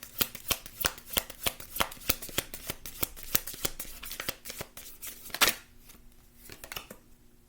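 Tarot cards shuffled by hand: a quick run of crisp riffling flicks and slaps in an irregular rhythm, close and clear, thinning out into a few last taps.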